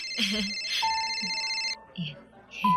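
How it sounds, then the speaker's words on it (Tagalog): A mobile phone ringtone plays nearby in a restaurant, a bright electronic melody of sustained tones that stops, then restarts, with voices briefly talking in the gaps. "babe, yung cellphone mo nagre-ring."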